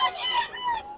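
A chicken clucking nearby, a short run of nasal, wavering calls that rise and fall, clear and fairly loud with nothing else behind it.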